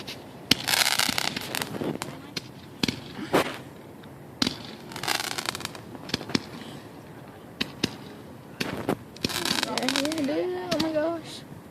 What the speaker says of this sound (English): Fireworks sounds